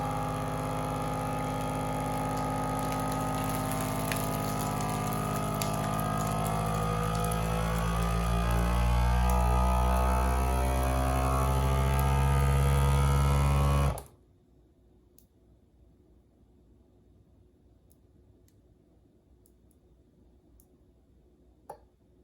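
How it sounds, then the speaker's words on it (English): A vacuum food sealer pumps and seals a bag: a loud, steady motor hum that builds in intensity for about fourteen seconds, then cuts off abruptly, leaving near silence with one faint click near the end. "Let's go ahead and hit vacuum seal."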